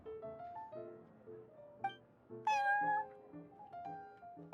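A cat meows several times in Genshin Impact, clear close tonal calls in an irregular sequence, one louder and longer than the rest, with no talking.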